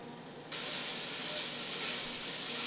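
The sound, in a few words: diced onion frying over medium heat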